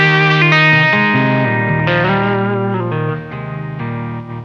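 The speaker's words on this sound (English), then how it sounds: "So I have enlisted the help of the Origin Effects Deluxe 61," Electric guitar played through an Origin Effects Deluxe 61 amp-style pedal with slapback echo from an El Capistan tape delay, a steady run of sustained, slightly overdriven notes and chords with a short repeating echo, loud and alone.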